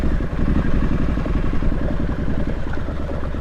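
A Triumph Street Scrambler motorcycle engine runs close by with a loud, steady, low throbbing rumble and fast, even pulses of mechanical clatter throughout.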